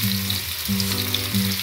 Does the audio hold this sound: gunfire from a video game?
no